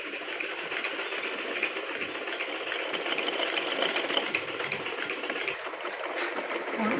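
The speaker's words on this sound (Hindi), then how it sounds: "तो इसको हम इस निशान के साथ मिलाते हुए सिलाई लगाएंगे।" A sewing machine runs steadily while stitching the neckline of a child's circular frock, a continuous close whirring rattle with no speech over it.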